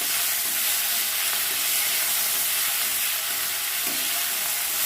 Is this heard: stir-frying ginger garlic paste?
yes